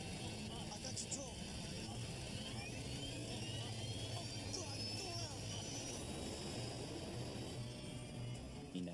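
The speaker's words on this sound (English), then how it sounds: "I feel the thrust of the engine re-engaging full throttle." Airliner jet engines spooling up to full throttle in a crisis, a continuous loud roar with a rising whine on top, steady and close throughout.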